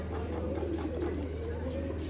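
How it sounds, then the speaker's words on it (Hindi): Caged pigeons coo softly and repeatedly over a steady low background hum, with the calls faint and blended into the room noise. "एक एक कबूतर जिसका आपने पहले शो किया है सामने पिंजरे में आपके आंखों के सामने है"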